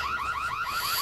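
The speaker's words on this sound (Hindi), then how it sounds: "ये हमने इसकी गाड़ी में लात मारी ताकि हॉर्न बजाए इसकी गाड़ी" A car alarm in the video game Scary Stranger 3D, set off by kicking the car, gives a fast run of repeated rising electronic chirps, loud and close, with no voices.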